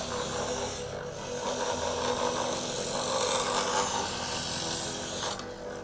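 A Chef'sChoice 317 Sportsman Xtreme electric knife sharpener hones a knife blade, a continuous motor whir with grinding rasp up close, the blade stroke changing partway through and easing off near the end.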